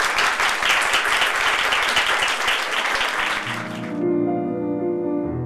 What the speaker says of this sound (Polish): Raz jeszcze gorące brawa, Włodek Pawlik dla Państwa.